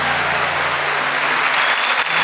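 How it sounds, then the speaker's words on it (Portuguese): A church congregation applauds at a Catholic family camp, steady dense clapping from many hands filling the room, loud and continuous with a low musical hum underneath. "pode aplaudir, aplauda o Senhor"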